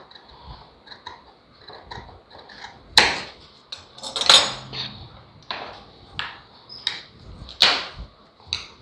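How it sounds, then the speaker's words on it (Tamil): Scissors snip around a curve in blouse lining fabric, making a run of crisp, close cutting clicks and metallic snaps at an uneven pace, with a few louder bursts between quieter cuts. "கீழே வந்து இப்படி கத்திரிக்கோல் நேரம் வச்சு கரெக்டாக ரவுண்டு கட் பண்ணிக்கணும்."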